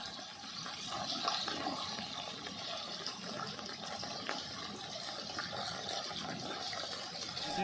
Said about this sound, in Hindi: और पानी तेजी से आसपास के गांवों में दाखिल हो गया।